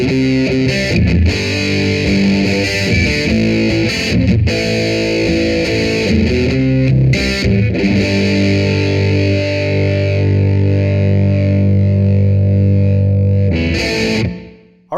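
Electric guitar with heavy distortion plays the ending of a song, thick sustained power chords with rhythmic stops and restarts, loud and alone, before cutting off abruptly.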